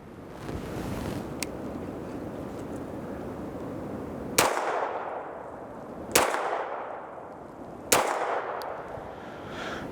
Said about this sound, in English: we're gonna run this 2011 3-shot accuracy test